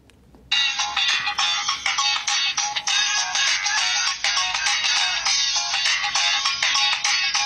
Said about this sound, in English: that's just one of the many ringtones the phone comes with